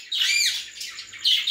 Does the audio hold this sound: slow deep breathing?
no